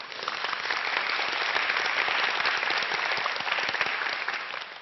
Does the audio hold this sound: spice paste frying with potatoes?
no